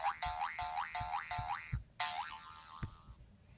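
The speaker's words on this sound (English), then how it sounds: "So, like I just pressed his stomach right here, it's like a little sound box so that it made that sound." Sound box inside a plush raccoon toy pressed, giving a quiet run of five quick springy boing-like tones in steady rhythm, then a longer sliding tone and a faint click, close and soft.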